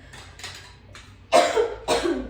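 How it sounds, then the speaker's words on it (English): Two sharp coughs close to the mic, after a few softer breathy bursts; nearby and fairly loud, no talking. "Why am I coughing?"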